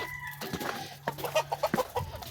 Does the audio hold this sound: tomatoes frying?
no